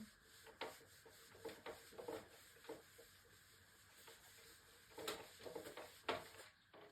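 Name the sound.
rubbing out the board to clear it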